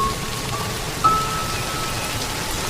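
Sudden torrential rain in the Serengeti makes a steady, even hiss of heavy downpour, with a single brief tap or drop standing out near the middle.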